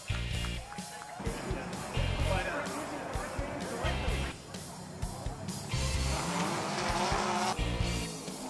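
Race cars at the Long Beach Grand Prix street circuit, loud engines roaring past in repeated waves with tire squeal, blended with crowd and talk.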